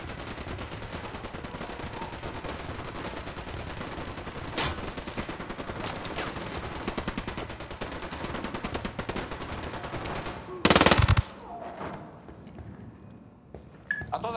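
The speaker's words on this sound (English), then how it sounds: "I'm opening fire." Dense, continuous automatic gunfire in the video game Ghost Recon Wildlands rattles on for about ten seconds, ending in a loud, harsh burst before the shooting thins out and fades.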